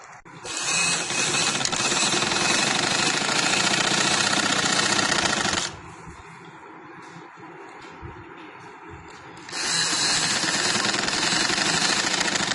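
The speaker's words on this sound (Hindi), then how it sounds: "इसको मैं ऐसे रख के इधर सिलाई लगाऊंगी उल्टी तरफ" A sewing machine stitches a seam on the reverse side of cut cotton fabric for a girl's casual frock. Two long, loud, steady mechanical runs are separated by a quieter pause of several seconds, with no talking.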